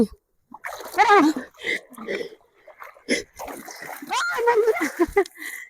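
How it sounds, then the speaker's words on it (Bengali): People bathing and splashing in water, with intermittent splashes and gurgles under lively talk from voices close by. "আসো কে চান করবে দেখো কত সুন্দর জলে আমরা নেমেছি"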